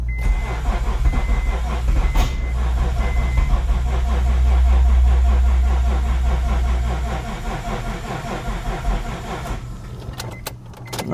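A Honda J35 V6 engine cranks over repeatedly without catching, a close, even whirring churn from the starter that swells then tapers over about ten seconds, followed by a few clicks.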